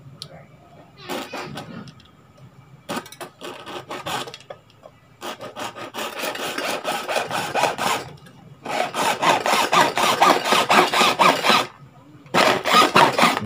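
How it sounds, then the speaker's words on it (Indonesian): Repeated bursts of a hand saw cutting, strokes in steady back-and-forth runs with short pauses between bouts, close and loud. "menggunakan alat yang alternatif menggunakan gergaji"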